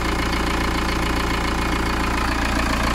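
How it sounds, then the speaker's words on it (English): A VW T25 camper van fitted with a swapped-in TDI diesel engine idles steadily once warmed up, giving a continuous close rumble with an even mechanical knock throughout and no voices. "It's all warmed up. It's fair to say there is nothing wrong with that engine."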